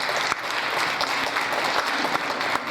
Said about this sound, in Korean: 여러분 저희 임원들 박수 한번 보내주시면